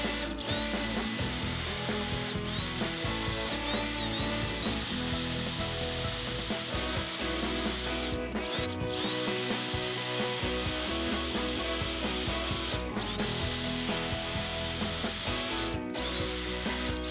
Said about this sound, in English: we're gonna go ahead and do some pilot holes and put this bad boy together